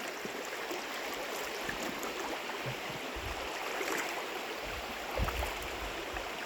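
A creek running too high to drive across rushes in a steady, broadband wash of flowing water, close and continuous, with a few low bumps and splashes near the end.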